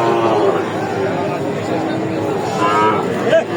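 Young bull calves, about four months old, moo at a rural cattle market, with drawn-out tonal calls rising near the end, close and loud over a busy background of voices.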